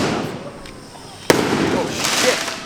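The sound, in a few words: Chinese New Year firework display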